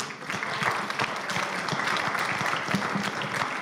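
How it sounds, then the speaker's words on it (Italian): Audience applause welcoming Mario Taddei to give a lecture at a festival: dense, steady clapping from a full crowd filling the whole stretch at an even, fairly loud level. "accogliamolo con un applauso"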